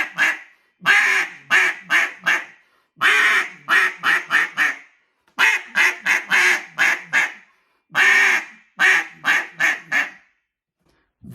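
A duck call blown to imitate a barking hen gives four series of rapid raspy quacks, each a long note followed by three or four short choppy ones, loud and close with pauses in between.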